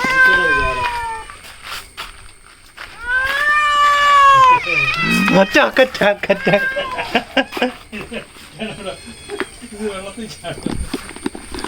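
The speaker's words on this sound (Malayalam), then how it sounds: "പൂച്ച എല്ലാം കൂടെ അറ്റാക്ക് തുടങ്ങിയിട്ടുണ്ട് കേട്ടോ" Several cats meow loudly and insistently, overlapping and drawn out, some rising into whiny yowls, with a person's voice mixed in.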